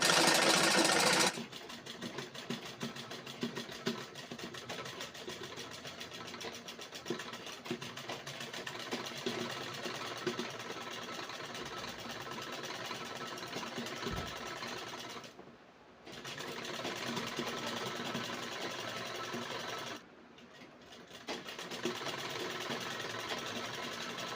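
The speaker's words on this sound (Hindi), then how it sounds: "बस यहीं से हम सिलाई को स्टार्ट कर देंगे" Sewing machine stitching lehenga fabric, a continuous close mechanical whir and rapid needle clatter that runs for most of the stretch, pausing briefly twice before starting up again, with no talking.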